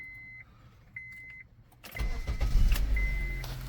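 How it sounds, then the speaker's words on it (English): A 2011 Honda CR-V engine starts after a headlight bulb replacement. A few quiet electronic chimes and clicks come first, then the starter cranks and the engine catches into a loud, steady idle close by. "So start up your car"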